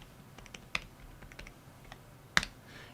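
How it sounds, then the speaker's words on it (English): Password keys tapped on a MacBook keyboard, a sparse run of soft close clicks with a couple of sharper, louder key strikes in a quiet room. "Now all we have to do is type our password from before."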